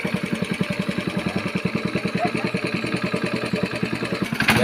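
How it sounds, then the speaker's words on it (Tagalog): Small motor of a water pump running in a garden of calamansi plants, a steady close chugging idle with an even pulsing beat throughout, loud and alone. "Ayan na, lumandar ng kanyang motor."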